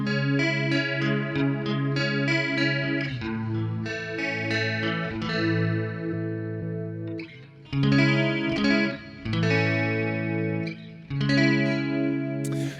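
An electric guitar runs through an Electro-Harmonix Pitch Fork pitch shifter pedal, playing strummed chords and short riffs with a thick, shimmering doubled tone, loud and close with brief pauses between phrases.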